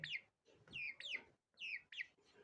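A broiler chicken, about six weeks old, clucks close by during weighing in short, squawky bursts, several calls in quick succession with brief pauses between them.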